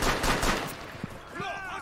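Bursts of gunfire from a shooter video game crackle in a quick volley at the start, followed by a few sparser shots and electronic game sounds, all fairly loud and close.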